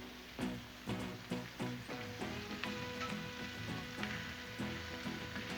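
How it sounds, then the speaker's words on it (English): Link sausages sizzle in bacon grease on a Blackstone griddle, a soft continuous crackle and hiss with a run of faint regular clicks, heard fairly quietly. "Get all our link sausages going."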